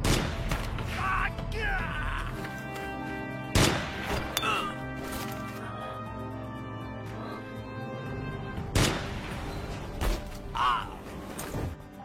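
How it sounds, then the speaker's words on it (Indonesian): Sniper rifle shots ring out in a war film battle scene, a few sharp, heavy reports spaced seconds apart over a tense orchestral score. "Pasukan lain yang mencoba menolongnya pun terus ditembak oleh sniper musuh."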